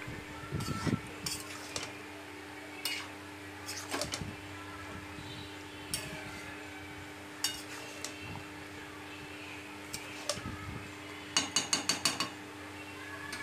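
Spoon scraping and clinking against a pan while curry is stirred after garam masala is sprinkled in, with irregular close knocks and a quick burst of rapid taps near the end.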